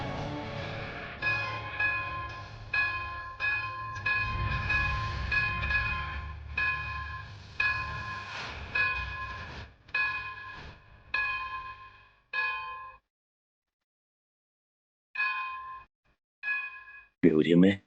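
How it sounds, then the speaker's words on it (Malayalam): A temple bell at a Shiva temple is struck again and again in an even rhythm, each ringing tone fading briefly before the next. The strikes stop for a pause, then resume near the end. "ശിവക്ഷേത്രത്തിൽ നിന്ന് ആ മണിനാഥം കേൾക്കുന്നേ നല്ല കാര്യങ്ങൾക്ക് തുടക്കം കുറിക്കാൻ"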